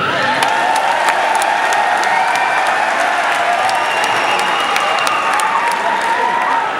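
An audience applauds steadily at a public gathering in Punjab, dense clapping at close to medium distance with a few scattered cheers, loud and continuous throughout with no pause.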